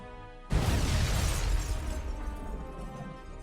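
A bridge blowing up in the World War II flight game Air Conflicts: Secret Wars, a sudden loud blast that bursts in and rolls on as a broad, rumbling roar slowly fading over several seconds.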